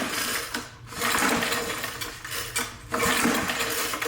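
A small engine with its auto choke stuck open cranks and sputters without catching, giving uneven bursts of rattling mechanical noise close up.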